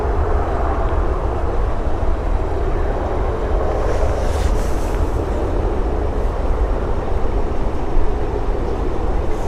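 An Emirates jet on flight EK65 arrives at Stansted Airport, a broad, steady roar of engine and air noise that swells slightly in the middle and holds for the whole stretch, with no talking.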